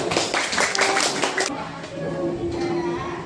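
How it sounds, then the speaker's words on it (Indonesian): A group claps hands in a classroom demonstration, a quick burst of clapping that stops abruptly, followed by voices talking. "Bagus, tepuk tangan."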